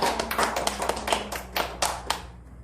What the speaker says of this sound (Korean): 우리 좋으신 하나님께 박수로 한번.